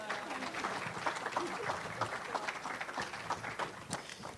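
Audience applause at a music and poetry open mic, a steady patter of many hands clapping at moderate distance for several seconds, with murmured voices underneath.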